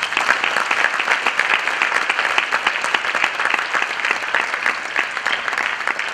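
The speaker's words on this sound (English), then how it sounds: "So for her, you have to clap" Sustained audience applause at a graduate sales bootcamp, dense steady clapping from a crowd that carries on evenly from start to finish with no talk over it.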